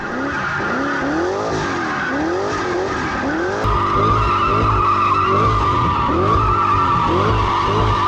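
A V8-powered Beetle car skids on a skid pan, its tires squealing loudly and continuously in wavering, rising and falling howls over the steady drone of the engine, close and prominent throughout.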